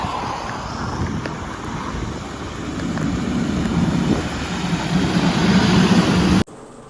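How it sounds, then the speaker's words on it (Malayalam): Strong seaside wind buffets the microphone in a steady rumbling gust that swells louder before cutting off abruptly near the end. "നല്ല കാറ്റുണ്ട്"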